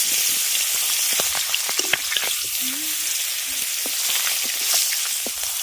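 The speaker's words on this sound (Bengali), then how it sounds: "তেল গরম হয়ে গেছে এবার মাছগুলো দিয়ে দেবে" Fish sizzle loudly in hot oil in a wok, a steady crackling hiss throughout with faint clinks of utensils and no talking.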